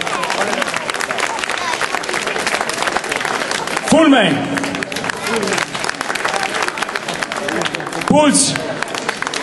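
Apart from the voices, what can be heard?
audience applause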